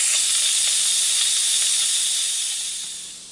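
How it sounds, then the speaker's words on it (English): Steam rushes out of an Instant Pot Duo Crisp lid in a loud, steady hiss that holds strong for several seconds before starting to taper off at the end. "The steam's going to come up back here."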